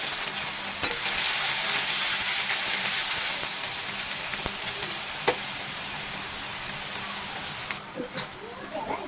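Diced potatoes sizzle in a pan with a steady, rain-like crackle and occasional sharp utensil clicks, while a voice speaks faintly toward the end.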